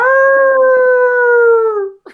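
A person imitates a coyote howl: a single loud, sustained, close howl that holds steady before sliding downward and fading, followed by a brief soft sound.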